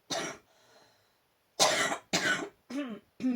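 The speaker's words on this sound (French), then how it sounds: "J'essaie de ne pas tousser dans le micro." A series of sharp, close coughs, one followed by a pause, then three or four more in quick succession.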